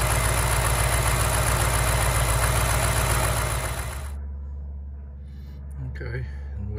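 2006 BMW X5 engine idling with a fuel pressure tester attached, a loud steady hum with rhythmic knock that cuts off abruptly partway through, leaving faint rumble and brief quiet talking.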